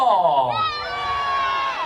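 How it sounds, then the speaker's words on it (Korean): A crowd of students at a high school sports day shouts together to vote for answer O in a quiz, a loud sustained cheer of mixed voices that holds steady for about two seconds. "정답이 o 라고 생각되시는 사람 함성"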